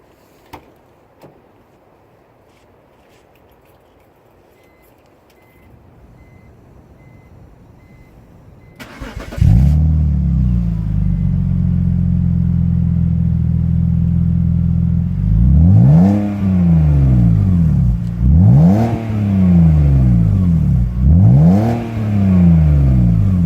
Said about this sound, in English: this is going to be the second run of the rear exhaust note